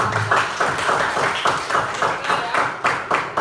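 A classroom group gives a round of clapping for a student team, several pairs of hands beating in a loose, fairly steady rhythm, close and moderately loud, with faint chatter mixed in.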